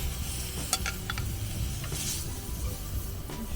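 Steaks cooking in butter at a campsite, giving a steady low sizzle and crackle with a few sharp clicks of a utensil stirring or turning the meat, close and continuous, with no talking.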